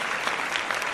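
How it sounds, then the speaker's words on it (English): Steady applause from an audience cheering podcast guests, a dense, continuous wash of clapping that stays loud and even throughout with no talk over it. "Give them some claps in the chat for Marcus, Malin, and Beth Butler."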